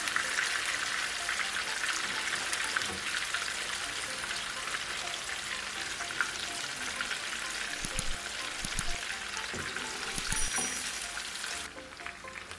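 Fish coated in pepper masala fries in hot oil, a steady, bright sizzle and crackle that runs continuously near the pan, with a few soft stirring knocks and a slight drop in intensity at the end.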